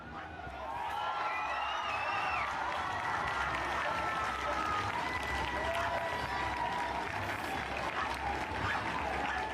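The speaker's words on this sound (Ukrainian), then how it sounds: "По закінченні випробовування глядачі зустріли бульдога оплесками" Spectators applaud a bulldog after a world-record attempt, with steady, dense clapping from a sizable crowd filling the whole stretch, along with cheering and crowd noise.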